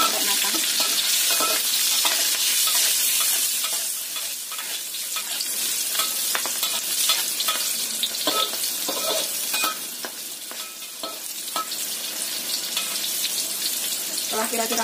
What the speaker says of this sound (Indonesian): Goreng cabai sampai matang.